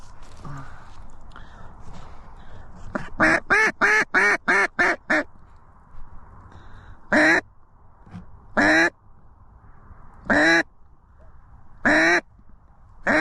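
Ducks or geese quack and honk during an Alberta duck hunt: a rapid burst of about six loud calls, then single calls spaced a second or two apart over a quiet outdoor background.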